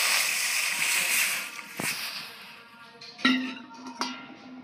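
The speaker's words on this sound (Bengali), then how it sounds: "কড়াইটা গরম হয়ে গেছে। কড়াইয়ের মধ্যে কিছুটা জল দিয়ে দিচ্ছি আমি।" Water poured into a hot karai wok while steaming banana-leaf-wrapped hilsa paturi, giving a loud broad hiss that fades after a couple of seconds, followed by a few sharp knocks and clatters.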